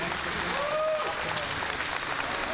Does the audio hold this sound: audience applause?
yes